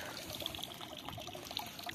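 Quiet, continuous trickling and gurgling of irrigation water flooding steadily into a crop field, with no voices.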